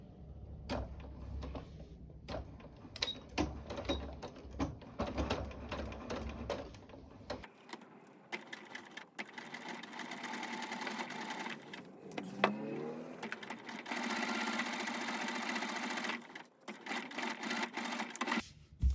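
A sewing machine stitches a long rouleau strip of silk crepe, first in short irregular bursts of needle clatter, then in a sustained fast whirring run, close and steady, with no talking.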